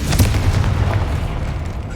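Confringo fire spell exploding in Hogwarts Legacy, a loud, continuous deep booming rumble with a sharper burst near the start, no talk.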